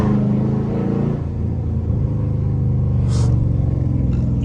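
A Dodge Scat Pack's engine rumbles steadily from inside the car as it drives through Atlanta city traffic, a low continuous drone holding fairly even with slight swells and no talking.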